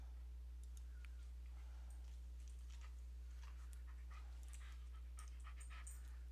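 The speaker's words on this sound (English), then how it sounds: "the dog is a little worked up" An excited dog pants and whimpers in short bursts indoors, moderately close, over a steady low electrical hum, with no one speaking.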